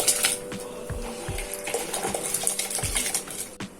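Soaked basmati rice is tipped into a pot of boiling water, producing a splashing, scraping pour with metallic pot knocks and bubbling water, close and fairly loud throughout.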